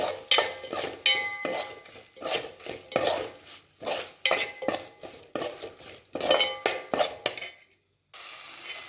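Crushed peanuts being stirred into brinjal masala in a pan, with a spoon scraping and clinking against the metal in repeated strokes, close and fairly loud with brief pauses between them.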